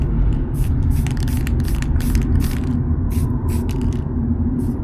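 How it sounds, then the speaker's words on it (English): A spray-paint can hisses continuously at close range onto a car part during a Mercedes SLK 280 repair, steady loud spraying broken by short bursts of brighter hiss. "let's just put a bit of spray paint on it"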